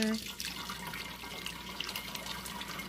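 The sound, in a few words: pouring broth into jars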